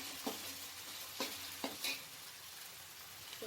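Tomatoes fry for chicken biryani with a soft, steady sizzle, and a spatula scrapes the pan in a few quick strokes. The sound is close but fairly quiet, with no voices.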